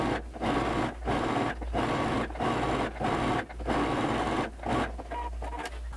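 A sewing machine stitches along the edge of a wrap dress's lining in repeated bursts of steady whirring, each run broken by brief pauses, close and loud with no talking.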